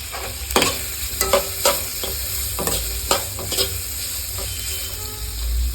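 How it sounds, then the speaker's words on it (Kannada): Chopped onions with a pinch of salt sizzle and fry in a pan for vermicelli upma, with a steady crackle broken by several sharp stirring scrapes and clicks. "ಅದಕ್ಕೆ ಈರುಳ್ಳಿ ಹಾಕೋತಾ ಇದ್ದೀನಿ ಈರುಳ್ಳಿ ಒಂದು ಸ್ವಲ್ಪ ಬೇಗ ಫ್ರೈ ಆಗೋದಕ್ಕೆ ಒಂದು ಸ್ವಲ್ಪ ಉಪ್ಪು ಹಾಕೋತಾ ಇದ್ದೀನಿ"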